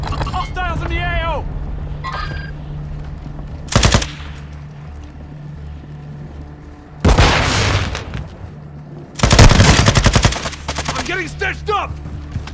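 Gunfire rings out in the video game Warzone 2 as several loud, sharp automatic bursts spaced a few seconds apart, mixed with game radio chatter and voices talking between shots.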